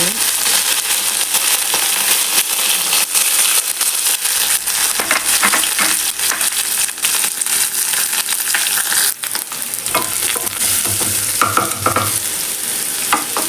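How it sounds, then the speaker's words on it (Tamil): Mustard seeds pop and splutter in hot oil in a pan, with a steady close sizzle and crackle running throughout, busy and loud with no talking. "எண்ணெய் சூடாயிருச்சு, கடுகு ஆட் பண்ணிக்கலாம். கடுகு பொரிஞ்சிருச்சு"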